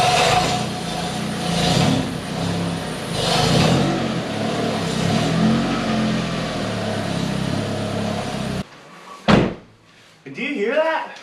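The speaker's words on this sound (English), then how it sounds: "Squealing belt. The exhaust actually sounds like it's falling off." Van engine running with an exhaust gasket leak and a squealing belt, a rough, loud idle with pulsing surges for about eight seconds, then a door slam and brief voices.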